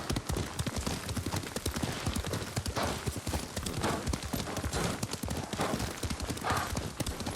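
Horse hooves clip-clopping steadily as a rider travels on horseback in the video game Ghost of Tsushima, a loud, continuous rhythmic trot with occasional faint voice.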